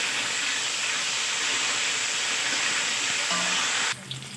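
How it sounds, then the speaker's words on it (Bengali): Cauliflower florets frying in oil with turmeric and salt give a steady, loud broadband sizzle that runs without a break, then drops off sharply near the end, with no talking. "দিয়ে ফুলকপিগুলোকেও আমি লাল লাল করে ভেজে নেব"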